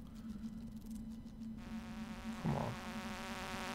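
Bees in the Stardew Valley video game give off a thin, steady insect buzz that runs throughout, while a low constant hum of game music sits beneath and a short spoken word cuts in partway.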